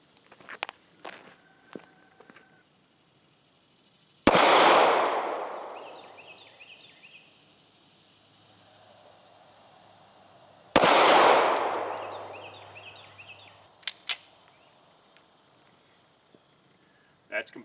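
Two loud, sharp gunshots from an ATI 1911 9mm pistol at a shooting range, spaced several seconds apart, each with a long decaying echo, amid faint clicks and handling noise.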